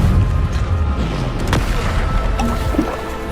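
A Descendo spell slams down in Hogwarts Legacy combat, giving a dense rumbling boom with a sharp crack near the middle, inside a continuous loud layer of battle noise and clatter.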